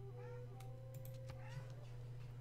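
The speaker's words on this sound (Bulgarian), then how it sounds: "Много мяка тая котка" A cat meows softly in a quiet room, a single faint drawn-out call over a steady low hum, with no one speaking.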